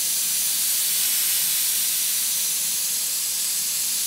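Steady, loud hiss of a spray gun applying clear coat to a car panel, running continuously throughout with no pauses.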